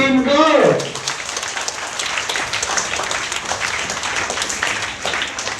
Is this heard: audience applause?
yes